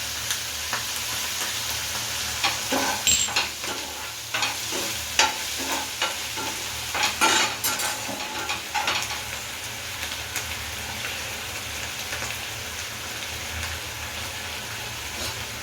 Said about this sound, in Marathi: टोमॅटो सॉस आता व्यवस्थित परतून घेऊया